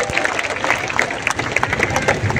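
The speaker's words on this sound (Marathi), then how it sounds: "तुम्हाला जर मान्य असेल तर टाळ्या वाजवा फक्त" An audience at a public event in Nigdi, Pune claps together, a dense patter of many hands with a murmuring crowd underneath.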